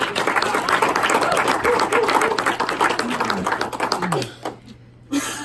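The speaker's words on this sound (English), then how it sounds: "Give them a round of applause" An audience at a training presentation in Sioux Falls, South Dakota claps in a dense burst that tapers off near the end, with voices and cheers mixed in and a brief sharp sound as it fades.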